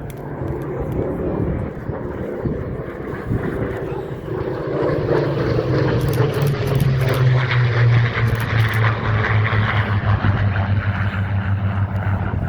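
A Spitfire propeller plane makes a pass at Sywell Airshow, its engine drone building and growling louder as it approaches, while a commentator talks over it and crowd noise sits in the background.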